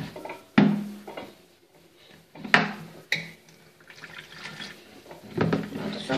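Water runs from a tap into a container in short, uneven splashing bursts, fairly close and moderately loud, with no talking.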